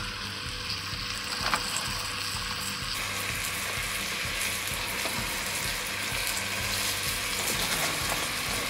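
Beef stew meat browning in a pan, a steady close sizzle and frying crackle running throughout without pause or voices.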